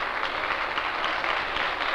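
An opera audience in Mexico applauds, a dense, steady wash of clapping from many hands that holds at an even level throughout without voices.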